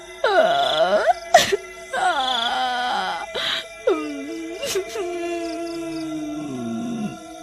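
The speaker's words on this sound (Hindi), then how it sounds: "आधी रात होने पर जंगल से किसी के रोने की आवाज" A long, eerie wailing cry rises and falls in drawn-out moaning sweeps, loud and close and unaccompanied, like someone sobbing in a forest at midnight.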